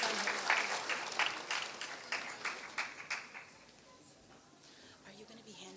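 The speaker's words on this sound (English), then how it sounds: "please give her a big round of applause" An audience at a 2022 graduation ceremony applauds an honoree; clapping is loudest at the start, then thins and fades over a few seconds while someone talks nearby.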